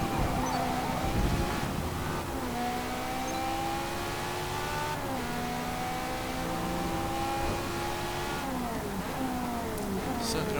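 A classic Ferrari engine revving in the racing game Forza Motorsport 4, with a steady, loud tonal roar that climbs in pitch through the gears and drops at each shift, under occasional light talk.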